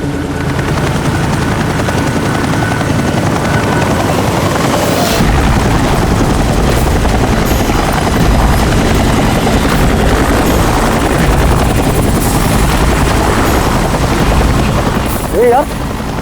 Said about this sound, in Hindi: ये हेलीकॉप्टर इतना नीचे क्यों उड़ रहा?